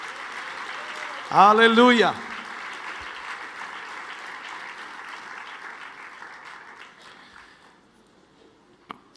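A church congregation breaks into a short, loud burst of applause with a voice calling out over it, then a single voice keeps speaking over a quiet hall.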